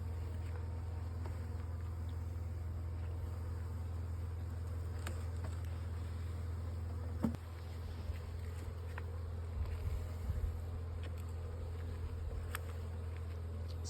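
Honeybees hum steadily around an open beehive while the brood boxes and supers are inspected, a constant low drone with scattered faint knocks and rustles.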